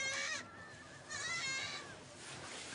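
Two quavering bleats from a small goat at a nomad camp in Mongolia, separated by a short pause and followed by a softer trailing tail, moderately near and otherwise alone.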